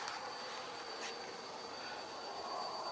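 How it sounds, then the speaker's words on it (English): Passenger train in Sacramento, heard as a steady rolling rumble with a thin high-pitched wheel squeal running through, fairly faint and distant, no talking. "And here is a passenger train"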